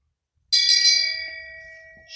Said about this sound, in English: this is one of those things that cannot be done without a shame bell